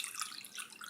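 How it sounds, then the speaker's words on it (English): Borax water being poured into a bowl of glue, a soft, steady trickling splash running for the whole second with no talk, close by and fairly quiet. "and we're going to pour it into that bowl."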